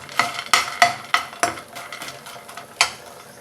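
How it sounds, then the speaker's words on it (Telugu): Sun-dried chitti vadiyalu lentil dumplings fry lightly in hot oil, a soft sizzle broken by several sharp stirring clicks of a ladle against the pan. "చిట్టువడియాలను వేసి వేయించుకోవాలి వీటిని లైట్గా ఫ్రై చేసుకోవాలి"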